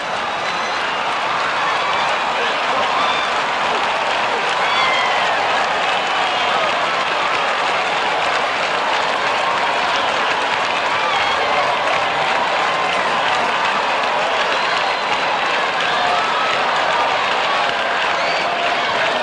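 A cricket crowd applauds a bowled wicket with the middle stump knocked over, giving a dense, loud, unbroken roar of clapping for the whole stretch with no talk above it.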